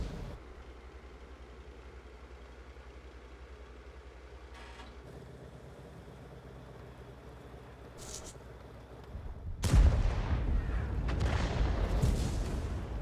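A tank cannon fires in a World War II tank battle game on a town map: a sudden loud boom near the end with a rumbling tail, after a stretch of steady low engine hum and faint distant thuds.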